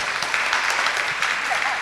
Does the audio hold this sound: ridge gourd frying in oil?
no